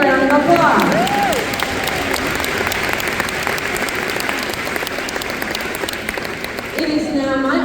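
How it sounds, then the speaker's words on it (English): An audience at an education funding event breaks into applause with some cheering, sustained clapping from a crowd, with voices heard briefly at the start and end. "Give yourself a big round of applause."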